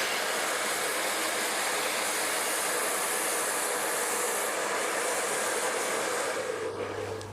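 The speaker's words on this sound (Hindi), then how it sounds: "यहाँ पे करेंगे ड्रायर" A hair blow dryer runs continuously while styling hair into out curls, a steady, close, loud airy whoosh that holds level for several seconds, with a slight shift in tone near the end.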